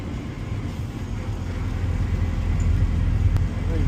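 A Porsche 944 engine runs at a steady idle, a continuous low rumble with a broad wash of noise on a rainy day. The level swells slightly toward the end, with no talk over it.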